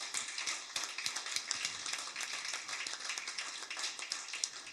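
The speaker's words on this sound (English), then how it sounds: "Round of applause for them." Scattered claps from a modest crowd at a resident assembly, sparse and uneven, individual hand claps standing out at low level without a full roar.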